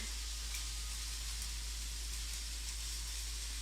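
Lentils, freshly boiled, sizzle steadily in a very hot pan on a stovetop, a continuous close hiss and crackle with no talk over it.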